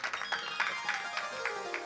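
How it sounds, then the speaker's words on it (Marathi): Kirtan listeners clap together in an even, quick rhythm, a steady run of soft claps layered over a sustained musical drone. "टाळी वाजवा एकदा या सगळ्या मंडळी करतात."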